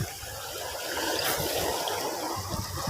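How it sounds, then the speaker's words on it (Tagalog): Choppy sea water slapping and washing around a small fishing boat, a steady close splashing surge with no speech over it. "Medyo maalon ngayon."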